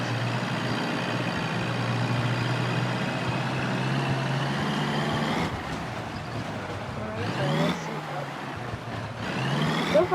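A non-offroad car driving off-road, its engine droning steadily at first, then dropping in level with bumps and surges as it labours over rough ground, no talk.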